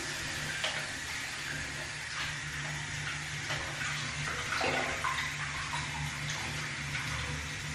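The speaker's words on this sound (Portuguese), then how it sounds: "Então vou encher aqui de água." Tap water runs steadily into a portable enema bottle, a continuous close rushing stream with faint clicks, and no talking.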